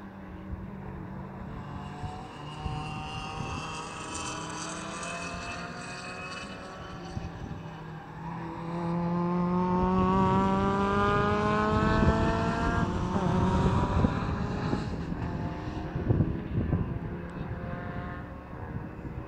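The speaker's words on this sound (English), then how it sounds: "Lotus is one of the cars going up on the grass a little bit there on the road." Race cars, including a Ginetta G50, an Aston Martin V8 and a Lotus Europa, run in a 750 Motor Club club enduro. Engines drone steadily at middle distance and swell louder as cars pass midway through, with rising and falling pitch.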